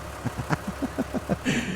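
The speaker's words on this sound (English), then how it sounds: "I hear my tractor." A small tractor engine in Farming Simulator 19 chugging in a steady low rhythm, puttering for a moment before a brief burst of higher noise at the end.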